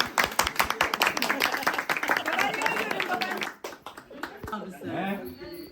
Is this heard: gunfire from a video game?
no